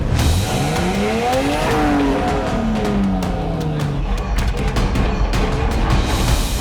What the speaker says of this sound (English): So I had to rev it right out in first gear